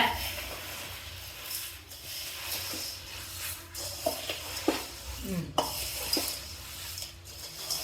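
Roasted fried gram dal stirred in a pan with the stove switched off, giving soft scraping and rustling with a few light clinks of a spoon on metal, close and fairly quiet over faint background noise.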